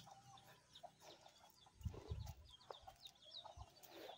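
Hens cluck on a rural farm plot near corn and papaya plantings, scattered bursts of clucking close by with a few louder calls midway, no talk.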